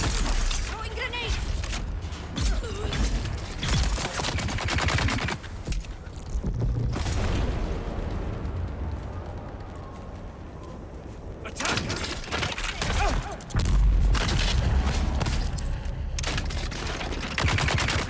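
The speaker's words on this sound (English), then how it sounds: "Throwing grenade." A grenade is thrown and bursts with a heavy boom during combat in Dune: Awakening, amid dense, continuous gunfire and clattering impacts, with a brief lull midway before loud firing resumes.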